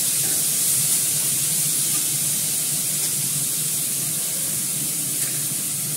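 Fish frying in a pan gives off a steady, loud, broadband sizzle that hisses continuously without pause and runs unbroken from start to finish.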